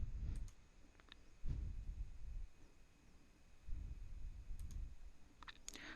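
Sparse, faint computer mouse clicks in a quiet room while working in Microsoft Dynamics Lifecycle Services, a few isolated clicks spread over several seconds with low background noise.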